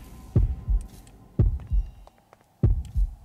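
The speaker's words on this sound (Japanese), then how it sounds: "かなり心音が近づいてますね。" A killer closing in makes a heavy heartbeat throb in Horrorfield, three loud double thumps spaced roughly a second apart, low and booming, with no talking.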